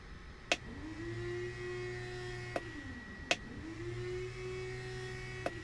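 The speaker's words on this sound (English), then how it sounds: "Boost pumps, cycled and heard." Fuel boost pumps on a Beechcraft Duke cycling on and off in a flight simulator: a steady electric whine rises and settles between faint clicks, alone with no talking.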